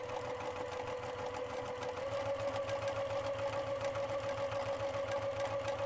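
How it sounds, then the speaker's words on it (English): A sewing machine stitching quilt fabric along a marked line, its needle thumping in a fast, steady rhythm with a sustained motor whine that rises slightly in pitch partway through, close and continuous with no talking. "I'm going to sew on that line"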